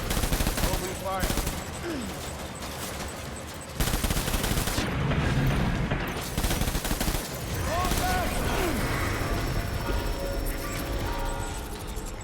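Sustained gunfire in the video game Death Stranding, with dense rapid automatic bursts and heavy shots filling the whole stretch, loud and close, with shouted voices mixed in.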